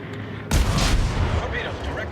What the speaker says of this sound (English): So for now, I'm just shooting at him with my cannons, which don't really do a lot of damage.